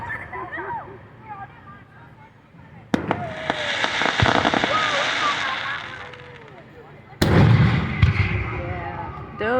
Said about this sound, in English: These are professional grade fireworks.